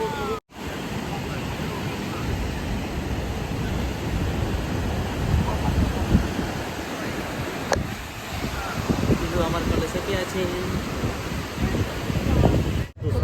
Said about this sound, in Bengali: চলে এসেছি সমুদ্রের কাছে দেখো প্রচণ্ড হাওয়া দিচ্ছে